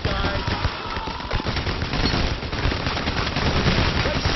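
Dense, continuous gunfire in the heist shooter PAYDAY The Heist, with rapid overlapping shots from several weapons forming a steady loud barrage throughout.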